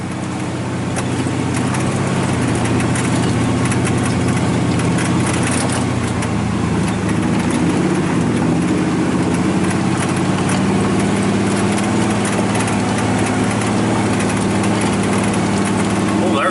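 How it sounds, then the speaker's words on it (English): A square-body truck engine runs steadily and loud throughout while the truck drives off road through mud, the rumble continuous with no break. "Oh, we're mud bogging."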